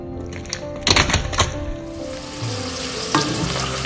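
Prawn shells hit melted butter in a pot over medium heat, with a few clunks and scrapes followed by a steady, close sizzle that continues alone.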